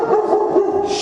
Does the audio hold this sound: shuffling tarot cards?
no